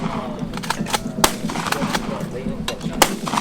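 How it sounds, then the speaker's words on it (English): A pump-action shotgun fires on an outdoor range, sharp loud blasts spaced out over a few seconds with pumping clatter between shots, under steady talk from people nearby. "for every round that you fire,"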